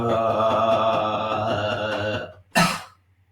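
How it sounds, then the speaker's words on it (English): A sustained humming, droning vocal tone fades out, followed by a single loud, abrupt cough close up. "Coughing is good, by the way, expelling wind from the lungs."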